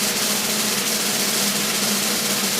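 A show segment jingle with a thunder-like sound plays as a dense, steady roar of broad noise, loud and continuous throughout, with no voices over it.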